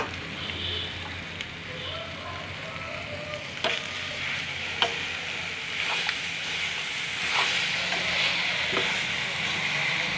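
Shark fish curry sizzles and fries in a pan while being stirred, a steady hissing crackle with occasional scraping clicks of the spoon against the pan, close and moderately loud.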